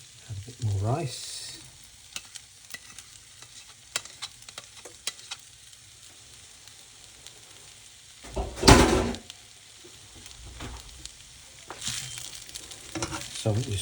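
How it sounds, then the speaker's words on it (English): Oily sizzling and frying as rice is stir-fried in a pan, with scraping and stirring clatter from a utensil, plus a louder burst of sizzle partway through. "I'm stir frying the rice, getting it warmed through."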